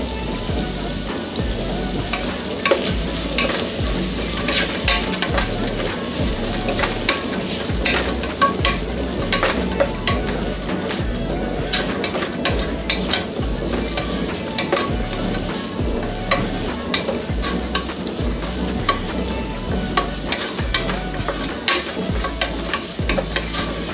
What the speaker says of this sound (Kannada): ಈರುಳ್ಳಿ ಫ್ರೈ ಆಗಬೇಕಾದ್ರೆ ಇದಕ್ಕೆ ಸ್ವಲ್ಪ